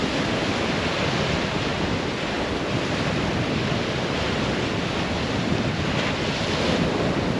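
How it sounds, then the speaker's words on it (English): Steady, dense roar of surf and gusting wind pressing against the microphone, constant and loud throughout with no voices. "It's like just strong headwind coming in."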